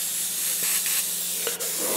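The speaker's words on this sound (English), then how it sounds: "I'm actually painting on the stencil mostly, and the overspray will take it where it needs to go." Airbrush spraying paint onto a stencil edge on a model, a steady close hiss of air and paint running without pause, with faint soft clicks and no talking.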